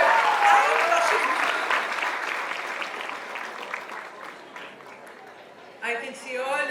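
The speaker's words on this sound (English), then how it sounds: "Can we have a huge round of cheer for the very beautiful and the very, very sweet Neha Sharma?" A live audience at a foundation launch event applauds and cheers loudly and steadily, the clapping dense and sustained before thinning out, with a brief burst of voices and whoops near the end.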